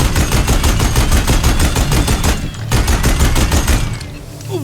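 Rapid machine gunfire from enemies in Horizon Zero Dawn, loud sustained bursts of evenly spaced shots with a brief pause before resuming, then fading out.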